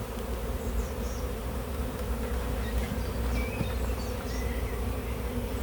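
Honeybees busy at an active hive as foragers return with nectar: a dense, continuous buzzing hum with individual bees droning past close by, steady and moderately quiet throughout.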